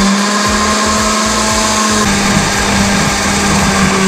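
A countertop blender loudly whirring through a piña colada of ice and white rum, with crunching ice chatter at the start before settling into a steady, high-pitched motor drone.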